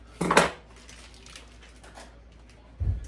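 Strips of deer jerky meat dropped into a large bowl: a sharp clattering knock at the start, a quieter shuffle, and another dull thud against the bowl near the end.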